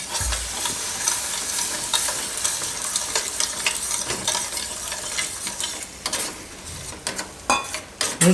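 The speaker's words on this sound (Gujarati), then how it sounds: "હવે થોડું થોડું દૂધ નાખતા જાઉં ને મિક્સ કરતા જાઉં" Milk being stirred little by little into pasta sauce in a pan, a continuous wet sizzle with scraping spoon strokes and light clinks that grow busier toward the end.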